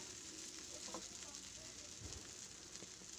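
Bangladeshi restaurant-style fried rice hisses quietly in a pan as it is stirred and mixed, a soft continuous sizzle with a few light scraping touches.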